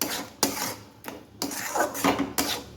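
A spoon scraping and stirring a semolina and oil batter with salt in a bowl, with clinking strokes in an irregular rhythm, close and moderately loud, with no talk.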